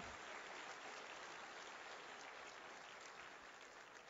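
A church congregation gives a sustained round of applause to welcome visiting pastors from London and Angola, an even, dense clapping that stays steady for the whole stretch and sounds somewhat distant and soft.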